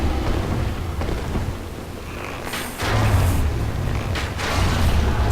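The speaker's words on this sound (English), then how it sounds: "There's one of those skulls that we saw in the catacombs that's about to explode all over his face" In the Dark Souls video game, an exploding skull in New Londo sets off a deep, rumbling boom partway through, over a steady low, stormy-sounding background roar.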